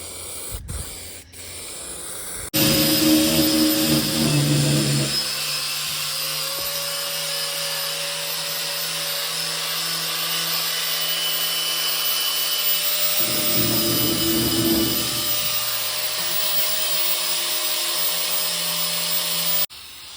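Primer sprayed onto a steel tube for an M715, a steady broadband hiss running nearly the whole clip, with a compressor-like hum swelling briefly near the start and again midway.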